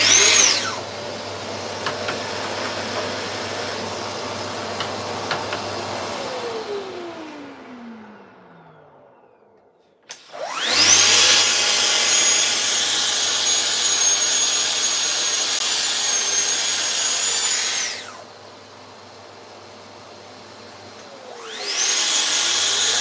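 A power saw cuts wood in a custom woodworking shop, trimming off a burn mark: two long loud whining passes with steady high motor drone, a pause as it spins down between them, then a third cut starting.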